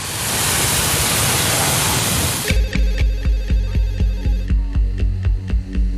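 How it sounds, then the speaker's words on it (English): A telephone rings late at night in Bhopal: a loud, repeating ring with rapid, evenly spaced pulses that cuts in abruptly after a few seconds of dense, hissing rush. "Across town, a late-night phone call wakes Dr. Bandari, senior consultant at Bhopal's m"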